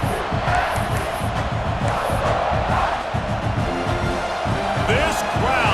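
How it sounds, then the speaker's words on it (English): Stadium crowd roaring at full throat in the EA Sports College Football 26 video game, a loud, continuous wash of cheering and shouting that stays dense throughout. "This crowd, full throat, spreading the eardrums and letting them know it's going to be a long day"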